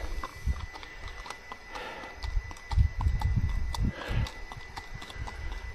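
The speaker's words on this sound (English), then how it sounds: "Wait till the horse has gone." A horse with a rider passes on a road, its hooves clip-clopping in a steady walking rhythm at moderate distance, growing slightly louder midway with low rumbling background noise.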